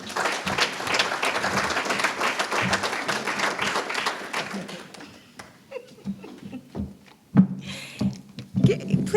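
A room full of people at a community engagement event claps in dense applause that thins out midway, leaving scattered claps, a few chuckles and some murmuring.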